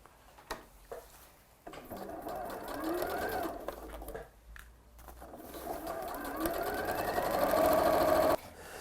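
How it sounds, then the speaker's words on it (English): A sewing machine stitches close to the edge of a scrub trouser waistband, running in two steady bursts with a brief pause between, the motor whirring at close range and gradually rising in speed. "I'm sewing close to the edge without actually having to move off the fabric with the foot of my machine"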